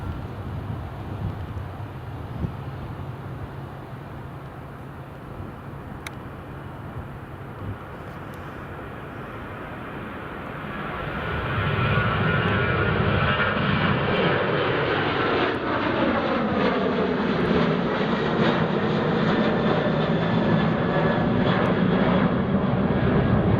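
A Hainan Airlines airliner taxis at Edinburgh Airport, its engine roar steady and fairly close, swelling louder partway through and holding a broad, sustained whine-and-rumble to the end.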